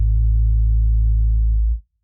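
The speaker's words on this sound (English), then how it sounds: "So if we now use these two settings and do the same humming sound as before, it sounds like this." A hummed voice played through a Boss RC505-MK2 loop station with a low-pass filter becomes a deep, muffled bass drone that holds steady and loud, then cuts off abruptly.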